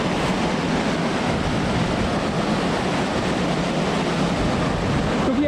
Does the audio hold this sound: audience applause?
no